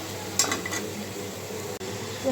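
Cauliflower and potato pieces sauté in a pan on low gas, giving a quiet, even sizzle with a couple of soft stirring scrapes and one sharp click near the end.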